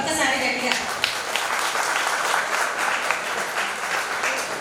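An audience claps in a dense, sustained round of applause that holds steady and close throughout, with voices mixed in underneath.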